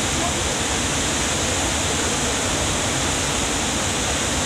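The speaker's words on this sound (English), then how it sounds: "You just see the waterfall" A waterfall in Vietnam roars in a loud, unbroken broadband rush of falling water, constant and close with no pauses.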